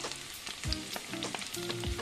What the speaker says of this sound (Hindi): এগুলো এবার আমি ভালো করে ভেজে নেব।